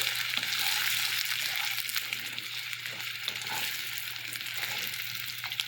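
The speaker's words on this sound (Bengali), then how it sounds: "আলু আর পেঁয়াজ একসাথে ভাজছি তেলে" Continuous crackling sizzle of potatoes and onions frying in oil, close by, with occasional stirring scrapes breaking through the hiss.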